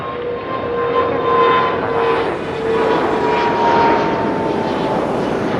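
A fixed-wing airliner at Toronto Pearson airport roars steadily in a gusty crosswind, a loud continuous engine drone with faint tonal whine, steady throughout with no talk.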